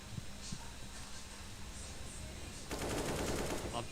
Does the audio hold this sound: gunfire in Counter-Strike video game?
yes